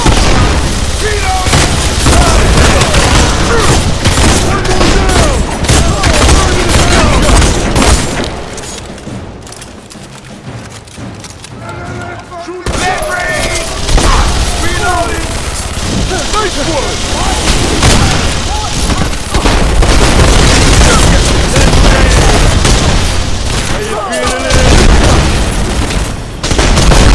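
Dense gunfire rattles nonstop in a night firefight in Kowloon in the video game The Expendables 2, with rapid shots and booms layered thickly, briefly thinning before surging back loud and close.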